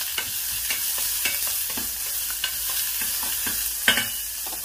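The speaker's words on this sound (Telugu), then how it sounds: "సో ఇప్పుడు కాస్త ఉల్లిపాయలు వేగాలి." Sliced onions fry in a pan for a cucumber curry, a steady close sizzle broken by repeated scraping strokes of a spoon stirring them, with no talking.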